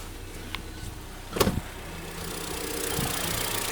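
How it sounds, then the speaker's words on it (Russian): A Kia car engine idles smoothly with a steady mid-range hum and a faint high whine from the generator, joined by a brief cluster of clicks and knocks early on; no speech. "Движочек работает ровненько."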